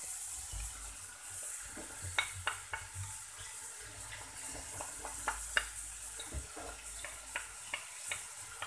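A spoon stirs and mixes spiced rice and vegetables in a pot. Soft scrapes and clinks recur irregularly over a quiet, steady sizzle.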